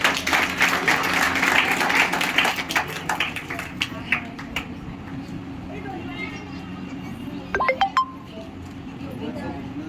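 Children applauding at an Ambedkar Jayanti school function, a dense burst of clapping that fades out over a few seconds, with a speaker's voice over the room afterward.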